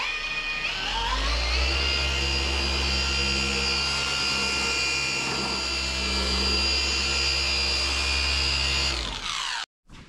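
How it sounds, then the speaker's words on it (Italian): Steady, loud whine of a power polisher working abrasive paste across a car body panel, running continuously for several seconds before cutting off abruptly near the end. "lucido questa parte qua con pasta abrasiva"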